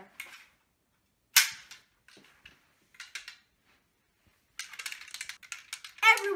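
Nerf Elite Sling Strike toy blaster firing darts at a toy bear target: a sharp snap near 1.4 s, a few quieter clicks and handling noises, then a busier stretch of rattling clatter toward the end.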